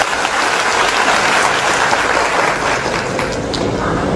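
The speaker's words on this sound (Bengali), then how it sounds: "আপনারা সবাই ওনাদের জন্য একটা করতালি দিতে পারেন" A large audience claps steadily at a talk, a dense, loud wash of applause that holds without a break and carries no speech.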